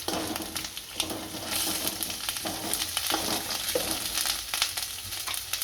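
Green chilies, grated ginger and white sesame seeds sizzle in a pan while a spoon stirs them. The crackle is steady and close, with scraping stirs now and then and no voices.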